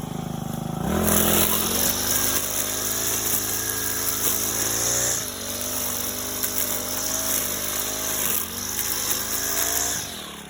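A Honda GX35 grass cutter engine runs steadily in a backyard, loud and close, with a high buzzing drone that surges and dips as the throttle changes.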